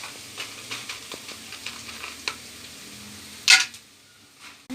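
Onions, ginger-garlic and spices frying in oil for bagara rice, a steady soft sizzle broken by scattered crackles and one sharp hissing burst near the end.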